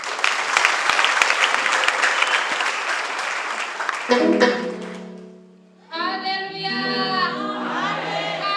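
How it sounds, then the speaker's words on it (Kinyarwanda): Church congregation claps loudly and steadily for about four seconds, then the clapping gives way to sustained instrumental music with voices after a short dip. "Omudaha Imana amashyi."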